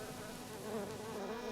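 A colony of honeybees at a 1960s beekeeping hive produces a steady, dense buzz of many insects that continues without a break. The swarm sounds fairly close and moderately loud, and no one speaks over it.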